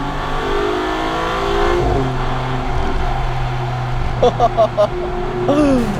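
A Maserati MC20 mid-engine sports car revs hard and accelerates, its engine note climbing and rising in pitch with loud, close exhaust bursts and a few sharp blips near the end.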